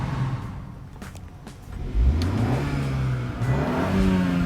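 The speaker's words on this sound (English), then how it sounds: "now let's give this baby a few revs" A 2020 BMW X2 with a 2.0-liter twin-turbo inline four-cylinder engine revs from idle, its pitch climbing and falling through a couple of rising and falling sweeps at close range, with no talk over it.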